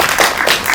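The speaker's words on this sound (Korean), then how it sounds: "감독님께 박수 한 번만 다시 부탁드리겠습니다" Audience at a Korean film special GV screening and talk applauding the director, a steady dense wash of clapping across the short stretch with no voices over it.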